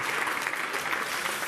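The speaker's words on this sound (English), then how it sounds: "a huge round of applause to Echo and team" Audience applause after a food-business pitch, a continuous even roar of many hands clapping at close range, short and without a break or any voices.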